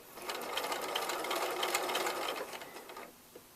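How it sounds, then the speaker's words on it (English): A sewing machine runs steadily, stitching a turn-and-stitch seam finish along a fabric edge, then stops near the end, leaving a faint click. "turn the fabric a little bit more, continue stitching"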